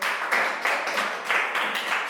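A group of schoolchildren claps in a steady rhythmic pattern, roughly seven or eight even beats over two seconds, fairly close and moderately loud in a classroom.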